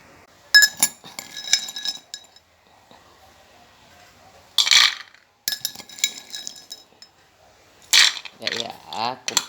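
Metal spoons clink against dishes in short bursts of bright ringing taps, with pauses between; a person talks intermittently nearby.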